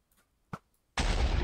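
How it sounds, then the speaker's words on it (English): A sudden loud blast in a block-building video game cuts in after a couple of faint taps and a small pop, a dense roaring burst that continues to the end. "Oh, explosion."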